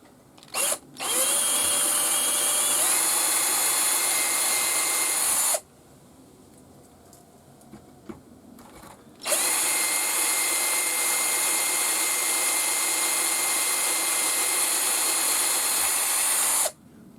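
A power drill whines loudly in two long continuous runs, separated by a quiet pause of a few seconds, pitch shifting slightly as it bites, while drilling a part for a Wilesco D11 steam engine diorama.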